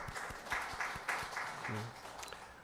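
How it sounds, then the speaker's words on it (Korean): A small congregation at an online church service claps faintly for birthdays, a handful of soft, uneven claps in quick succession, with a brief voice murmuring partway through. "우리 이 자리에는 없지만 같이 축복하고 축하하며 박수하겠습니다"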